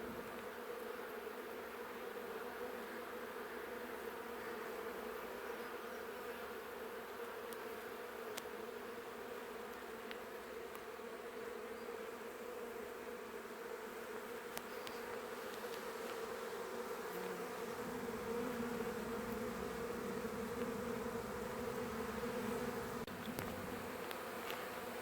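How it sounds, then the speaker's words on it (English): Honey bee swarm buzzing around a hive box outdoors, a dense, steady drone of many wings that holds throughout, growing slightly fuller toward the end. "I literally just put this hive box with no bottom board over the top of this swarm"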